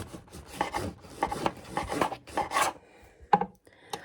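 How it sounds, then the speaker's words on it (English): A knife saws back and forth through a loaf of warm homemade bread, first-time baking, cutting a very thin slice. Close, dry rasping strokes come in a quick irregular rhythm, then stop, followed by a sharp tap. "I'm going to cut a very thin slice to try"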